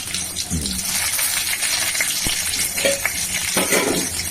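Bay leaves and dried chilli sizzle steadily in hot oil in a pan, a close crackling hiss with occasional sharp spits and light utensil clinks, and brief talk over it.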